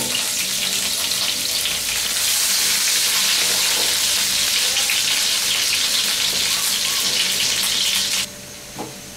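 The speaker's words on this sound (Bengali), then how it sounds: "আমি একটা প্যানে তেল গরম করে তার মধ্যে কিছু পেঁয়াজ কুচি" Chopped onions fry in hot oil in a pan for Bangladeshi pabda fish curry. A loud, steady sizzle runs unbroken for about eight seconds, then drops away abruptly near the end.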